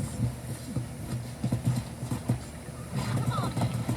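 Horse ridden in the video game Red Dead Redemption, rhythmic clip-clop hoofbeats with a faint snort, heard under a voice and game dialogue.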